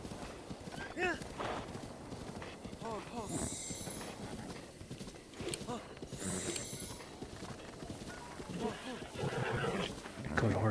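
Horse hooves clip-clop in The Legend of Zelda: Breath of the Wild, a steady rhythmic patter running beneath frequent talking and game noise, with occasional whinny-like calls.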